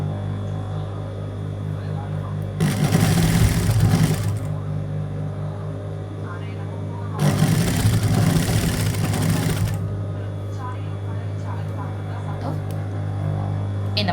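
A sewing machine stitches a skirt belt and elastic in two sustained runs of rapid, close mechanical whirring, separated by pauses over a constant low electrical hum.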